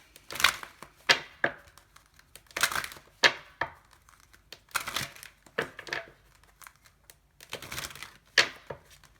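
Tarot cards are shuffled in a series of crisp, papery riffles and snaps, coming in irregular bursts separated by short quiet gaps, close and fairly soft.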